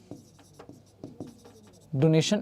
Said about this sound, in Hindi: तो यहां लिखेंगे डोनेशन